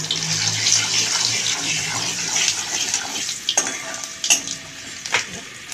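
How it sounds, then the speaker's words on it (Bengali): Whole cumin seeds and dried red chillies fry in hot oil for a tempering, a steady close sizzle with scraping stirs and a few sharp clatters toward the end, no voices. "তেলের মধ্যে দিয়ে দিচ্ছি জিরে, গোটা জিরে, দিয়ে দিচ্ছি শুকনো লঙ্কা। আমি লাল লাল করে ভেজে নেব ফোড়নটা।"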